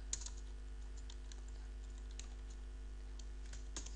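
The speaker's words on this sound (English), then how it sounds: "now type your input" Typing on a computer keyboard, faint and fairly close, with scattered light key taps and a few sharper clicks over a low steady hum, no voices.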